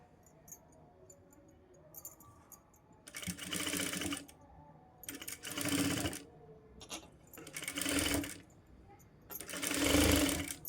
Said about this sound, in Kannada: ಇದ್ರ ಮೇಲಿಟ್ಟು 1/4 ಇಂಚಿಗೆ ಸ್ಟಿಚ್ ಮಾಡ್ಕೋಬೇಕು.